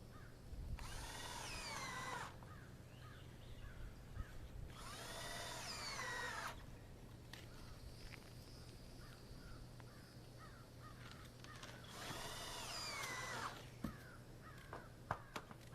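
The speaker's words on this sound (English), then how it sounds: "I'm just going to come along up here and put the screws on this side" A power drill drives screws into a mobile home roof in short whirring bursts, a few seconds each with pauses between, while crows caw in the background.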